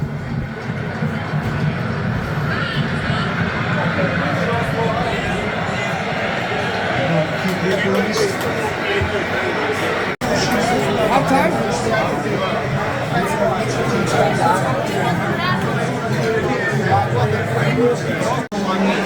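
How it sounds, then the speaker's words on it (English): A packed crowd of football fans at O'Shea's pub in Bangkok, a dense steady roar of overlapping chatter and hubbub throughout, with nearby voices talking over it. "Yeah, pretty crazy crowd."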